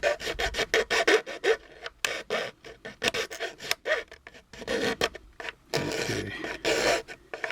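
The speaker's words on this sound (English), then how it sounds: "I try this coarser file." Coarse file rasping against a 1/25 scale resin model of a 1959 Cadillac Miller Meteor hearse, close and fairly loud, in quick repeated back-and-forth strokes with short pauses and a brief spoken word near the start.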